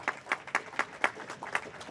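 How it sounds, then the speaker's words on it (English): An audience at a Yerba Buena High School event in San Jose gives a round of applause, heard as a soft, regular patter of claps that stays faint and somewhat distant throughout. "So could we have a round of applause to Mr. Tom, who represents the Office Superintendent of Eastside Union."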